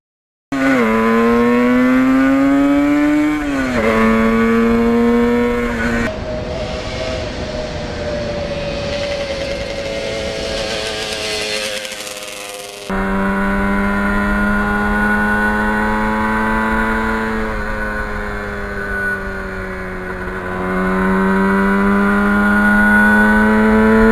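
A 1977 Yamaha RD400 two-stroke motorcycle being ridden on an autumn road, its engine loud and close throughout, revving up and down through gear changes with a steady droning tone and a brief dip in the middle.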